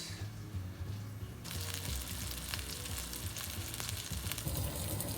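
Chicken pieces laid skin side down in hot olive oil for a teriyaki sandwich, a loud sizzle that jumps up early on and then stays steady, with light crackles close by.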